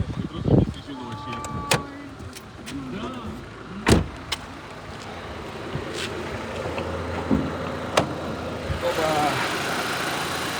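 A 2008 Renault Megane Scenic II 1.6 petrol MPI engine idles steadily with a low hum, while sharp clicks and mechanical clunks cut in and out nearby.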